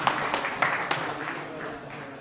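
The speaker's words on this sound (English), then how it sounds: "Give a big round of applause." Scattered applause from an audience at a fireside chat, a few sharp claps at the start followed by softer, thinning clapping, fairly quiet and brief.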